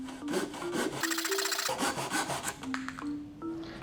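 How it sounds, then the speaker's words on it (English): A universal cut hand saw slant-cuts through wood in quick, rhythmic rasping strokes, close up and steady for about four seconds with no talking. "Now I'll try slant cut with a universal cut saw."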